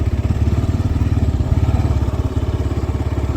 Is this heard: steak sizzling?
no